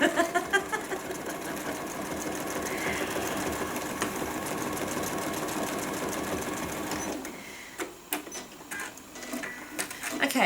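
A sewing machine runs steadily for about seven seconds, stitching fabric sections for bleachwork, then stops, leaving a few brief clicks and handling sounds.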